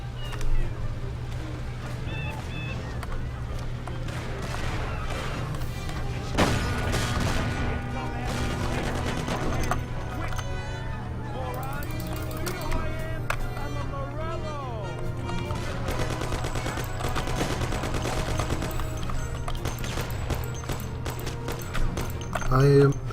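Gunfire rings out in the Mafia video game, with scattered shots and bursts over game background noise and music. Someone talks over much of it.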